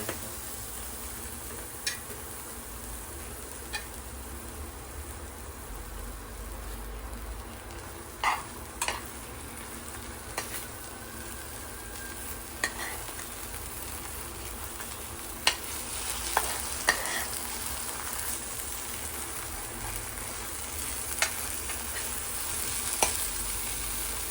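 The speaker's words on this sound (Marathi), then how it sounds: "ते कांदा पण यात टाकतो 2 मिनिटं उडायला" Chopped onion frying in a pan at home, a steady low sizzle running throughout with occasional sharp ticks and pops from the pan, close by and with no voices.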